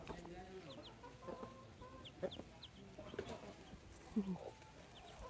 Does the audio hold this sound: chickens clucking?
yes